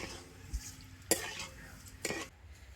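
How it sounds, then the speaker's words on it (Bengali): Sugar stirred into water in a pot on the stove, faint low background with a few distinct scraping spoon strokes and one sharp clink against the metal, no speech. "তো নাড়াচাড়া করে চিনিটাকে ভালো করে গলিয়ে নেব"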